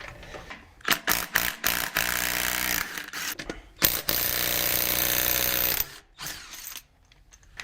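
A Harbor Freight impact wrench rattles in short hammering bursts and then longer sustained runs while tightening lug nuts on a 4Runner in a garage, loud and close, with brief pauses between bursts.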